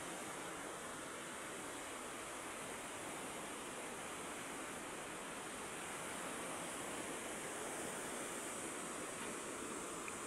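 Sea waves washing onto a wide shoreline, a steady, soft broadband rush of surf with no distinct breaks and no voices.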